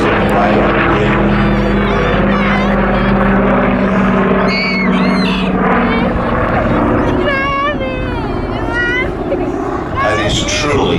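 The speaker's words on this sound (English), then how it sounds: "This is not how you see an airliner being flown, but this is being beautifully flown and controlled today" Douglas DC-6 four-engine propeller airliner flying a low display at an air festival, a loud continuous droning roar that rises and falls as it passes, with a commentator and crowd voices heard over it.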